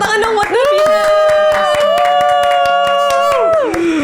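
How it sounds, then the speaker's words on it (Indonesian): An audience claps for Davina, with a rhythmic, evenly spaced clapping beat running under a loud sung melody that dominates the mix. "Tepuk tangan dong buat Davina."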